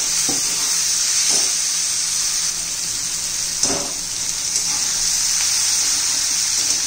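Tomatoes sautéing in a pan for tomato-potato pohe after salt is added, giving a steady, close, moderately loud sizzle with faint stirring scrapes and no talking.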